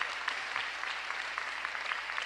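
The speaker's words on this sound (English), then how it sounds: "give them a round of applause for all of their work" Applause from an audience at Philadelphia's State of the City address, a steady, dense clatter of many hands clapping throughout the short stretch with no voices over it.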